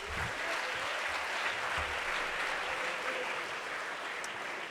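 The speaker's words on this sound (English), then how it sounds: "So please give him a round of applause." An audience at a high school assembly applauds, a steady, fairly distant wash of many people clapping that holds evenly throughout.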